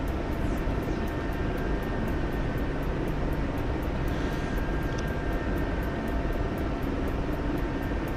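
A Corsair fighter plane's engine drones in a video game, a constant near propeller roar held at an even level throughout.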